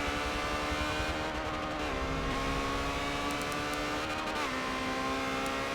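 Ferrari 360 Challenge Stradale race cars howl around the Hockenheim circuit, a sustained high-revving engine note with gear changes shifting the pitch, heard steadily throughout.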